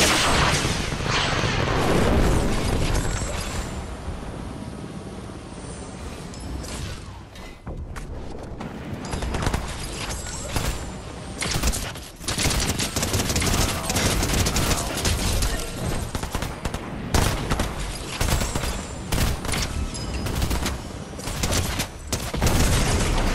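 Repeated airstrike blasts rain down in Roblox BedWars, loud, dense booms and crackling impacts that run almost continuously, with brief lulls between clusters of hits.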